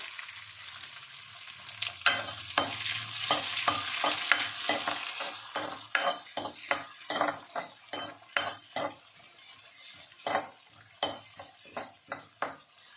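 Small onions fry in hot oil with mustard seeds and fenugreek, sizzling loud and close. A spatula scrapes and clacks against the pan, settling into a steady, rhythmic stirring in the second half.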